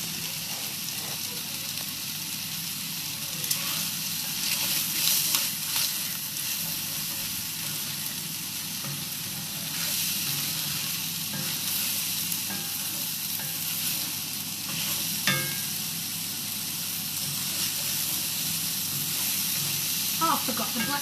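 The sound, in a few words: wild mushrooms cooking down in pan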